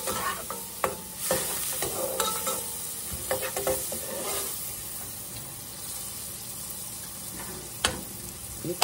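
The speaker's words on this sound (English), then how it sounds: "Get it down in there, get it melted. We've got our onion all cooked clear now." A stick of butter melts and sizzles over cooked onions in a pot, a continuous frying hiss broken by sharp scraping and clinking strokes of a stirring utensil, loudest near the start and end.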